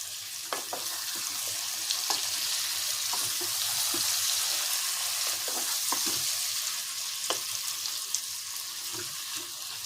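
Food frying in a pan for a home-style mutton dish, a steady close sizzle and crackle throughout with occasional light clinks of a utensil against the pan, no voices.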